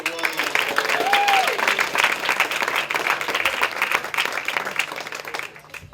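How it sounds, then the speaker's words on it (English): Crowd applause at a Boys and Girls Club birthday event, a loud burst of clapping with some cheering and voices, tapering off near the end. "big round of applause for all the people who"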